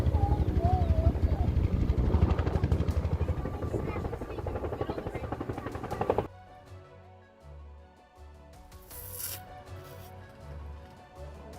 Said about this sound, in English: You can hardly see the helicopter,